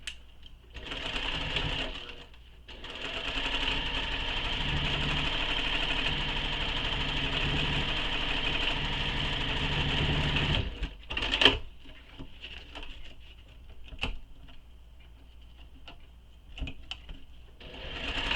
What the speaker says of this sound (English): So I'm going to sew 2 rows of stitches back and forth over the strap